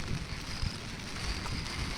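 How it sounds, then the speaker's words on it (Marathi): Light rain falls outdoors as a faint, steady, diffuse hiss and patter, with a soft rumble of wind and no voices. "बघा हलका हलका पाऊस येतोय"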